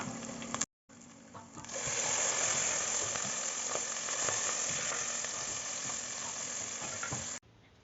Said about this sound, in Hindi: यहाँ पर हमने आधा कप की जितना लिया है कुकिंग ऑयल। प्याज को फ्राई करेंगे।